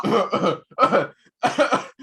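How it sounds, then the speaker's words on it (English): Three close bursts of harsh, raspy coughing, each a quick double or triple cough with short gaps between them. "I was coughing."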